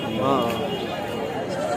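A male goat bleats loudly and close by at a weekly sheep and goat market in Kadiri, a single drawn-out wavering cry over faint background voices.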